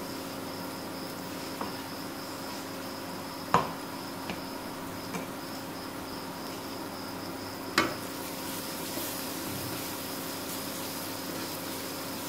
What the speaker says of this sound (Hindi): ये अच्छी तरह से फ्राई हो चुका है बहनों